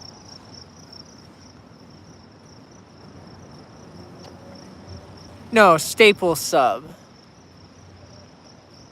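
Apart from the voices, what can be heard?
crickets chirping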